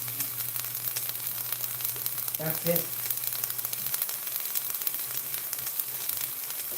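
Steady static-like sizzle of food frying in a pan in a home kitchen, moderately close, with a low hum and a short spoken remark partway through.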